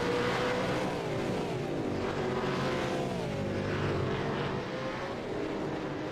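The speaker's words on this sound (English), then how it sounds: "Oh, can you hear those engines roar? How crazy is that sound?" V8 Supercars roar in a sim racing game at Sandown, several engines howling and revving together in a loud, continuous, wavering drone, with no talking.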